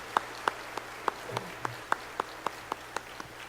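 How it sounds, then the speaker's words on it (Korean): Applause in a church service for a visiting Seoul city congressman: about a dozen evenly spaced, distinct claps at moderate distance, fairly quiet over a low room hum. "Let us really encourage him with applause."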